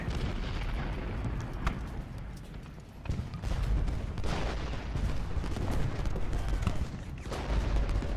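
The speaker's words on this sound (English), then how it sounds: "Let's go ahead and move our artillery closer. Make the Union pay." Artillery cannon fire from the Civil War strategy game Ultimate General Gettysburg, with steady booming volleys and rumbling battle noise that continue through the whole stretch, sometimes swelling into louder bursts.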